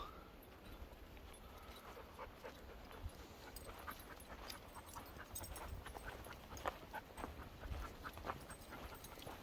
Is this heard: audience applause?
no